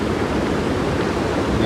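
Floodwater from a river swollen by very heavy rain roars past the bank in a steady, dense rush, loud and continuous with no pauses.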